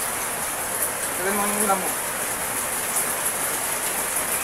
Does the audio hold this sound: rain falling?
yes